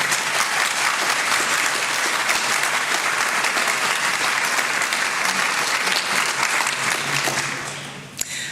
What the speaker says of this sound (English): So just to the IT department to give her a clap as well.